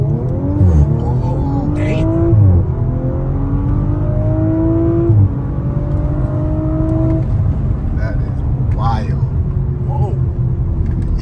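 An Audi RS5 launches hard from a dig, its engine revving and climbing through rising gear pulls with loud, close interior roar, while people talk over it.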